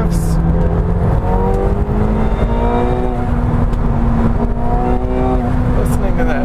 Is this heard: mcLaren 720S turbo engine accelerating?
yes